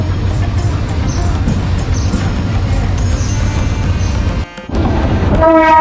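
A train at Chittagong railway station, bound for Cox's Bazar, rumbles loudly and steadily through a busy platform, with a sustained horn-like tone rising near the end after a brief dip.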